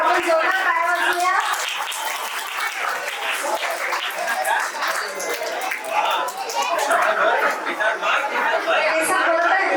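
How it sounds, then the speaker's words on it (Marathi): At a retirement event, a crowd in a hall gives loud, sustained applause that lasts throughout, with chatter and voices mixed under the clapping. "आपण जोरदार टाळ्या वाजवूया."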